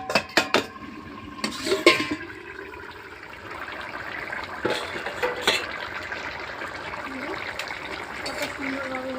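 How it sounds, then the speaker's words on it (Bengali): A lid is lifted off a cooking pot of fish curry with potatoes: a few quick metallic clinks and knocks up close, followed by a soft steady simmering hiss. "ঢাকনাটা তুলে নেব।"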